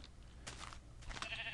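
A Minecraft sheep, one of a flock of dyed multicolored sheep, bleats twice in the game, each cry faint and short against a quiet background.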